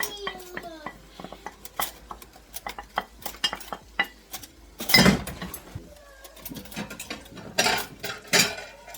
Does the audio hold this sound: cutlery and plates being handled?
yes